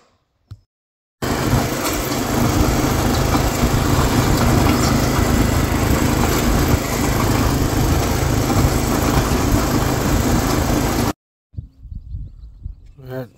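A Troy-Bilt Horse tiller with a newly fitted engine runs at a steady, loud, close drone for about ten seconds, then cuts off abruptly, leaving brief quieter handling sounds.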